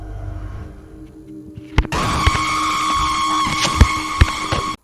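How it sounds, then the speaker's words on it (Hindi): A train pulls away from a station, staged as a sound effect in a horror audio drama: a low rumble, then a sharp clank, followed by a steady whining mechanical drone with periodic knocks. No voices are heard. "और ट्रेन चल पड़ती है।"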